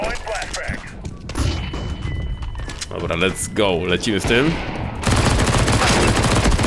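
Rapid bursts of gunfire from a video game rattle throughout, growing heavier toward the end, with someone talking over them.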